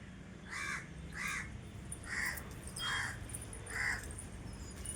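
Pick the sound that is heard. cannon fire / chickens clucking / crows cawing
crows cawing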